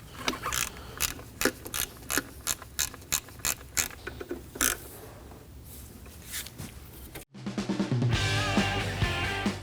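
A ratchet tightens three 10 mm cover bolts on a 2003-2006 Subaru Baja engine, giving close, sharp clicking strokes in uneven bursts before a brief silence and a louder mechanical whir.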